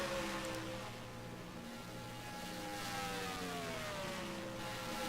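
A pack of NASCAR race cars rotates past at Atlanta Motor Speedway, a sustained engine drone with gliding, Doppler-shifting pitches as the cars sweep by at a distance, steady and fairly quiet throughout.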